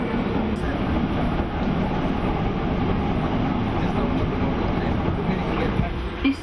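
A Docklands Light Railway train runs between stops, with a steady, loud rumble of wheels on rails and a faint rhythmic clatter that continues throughout.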